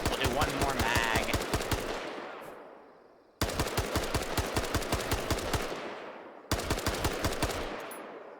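Sustained automatic gunfire from a full magazine in the Arma 3 military shooter game, loud rapid bursts in three long strings separated by brief pauses, with reverberant tails and no talking.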